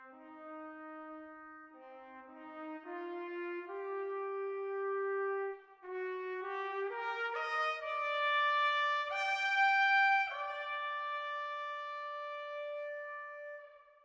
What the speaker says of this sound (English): And so the solo trumpet sounds like this.